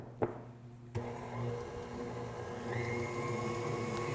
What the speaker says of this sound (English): I'm using the whisk attachment so it'll be a little fluffier